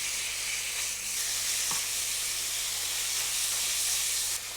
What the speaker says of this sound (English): Once it starts simmering, you have to keep turning it.